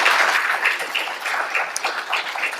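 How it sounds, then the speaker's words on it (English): Graduates and guests at a 2024 University of Mississippi Honors College graduation celebration give a sustained round of applause, a steady, fairly loud wash of clapping from a large audience. "So let's give a round of applause to the faculty and staff of the Honors College."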